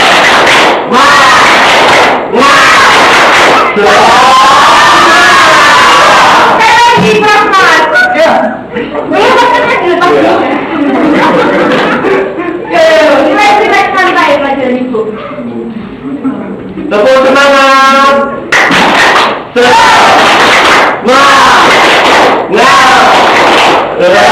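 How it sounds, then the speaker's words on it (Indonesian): A group claps together in loud, rhythmic bursts of a spirited clapping chant, with voices calling and talking between the rounds of claps. "Tepuk tangan teman-teman"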